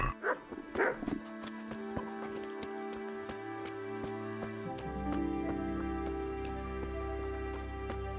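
A dog in the medieval game Kingdom Come: Deliverance gives a few short barks early on, set among rain and game sounds, and a steady musical drone builds beneath.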